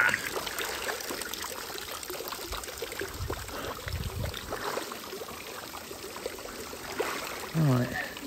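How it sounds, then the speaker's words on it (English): An old chateau fountain trickles and splashes softly in a steady stream, with brief louder gurgles, and a voice speaks faintly over the water. "we can get more water coming out"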